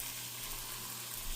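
Ginger garlic paste frying in a pan, a faint steady sizzle and hiss that stays even and continuous over a brief moment, heard alone.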